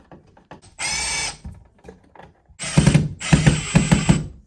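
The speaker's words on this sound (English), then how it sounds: "I tuck the outlets into the recess box and carefully align and screw them in securely." A cordless power drill drives screws to fix electrical outlets into a recessed wall box, heard as a short whirring burst followed by a longer pulsing run, close and loud, with handling clicks in between.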